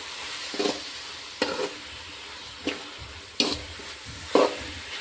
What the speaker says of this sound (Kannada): ಅದನ್ನು ಇವಾಗ ಸ್ವಲ್ಪ ಫ್ರೈ ಮಾಡ್ಕೊಳ್ಳೋಣ.